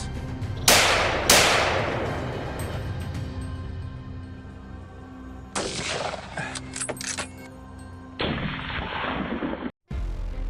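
Gunshots ring out on a farm during a clash with wild boars: two sharp reports close together, then later bursts and a sustained rumbling blast, loud and echoing outdoors.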